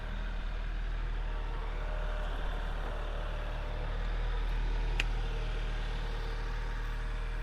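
A tractor engine runs nearby beside a tiny cabin, giving a steady, low, droning idle that holds unchanged throughout with no talk above it.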